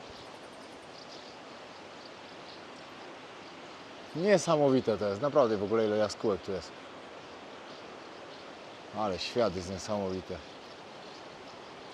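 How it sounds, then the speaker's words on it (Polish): In a gorge in Armenia, a river rushes with a steady, echoing hiss that runs throughout, while someone speaks in two short bursts over it. "Idzie takie echo tutaj, jakby tu gdzieś ta rzeka przepływa."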